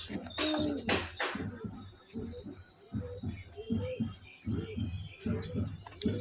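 Pigeons kept as pets coo and call softly while feeding in the morning, a steady run of low rounded coos with a few sharper chirps, close by and continuous over faint background noise.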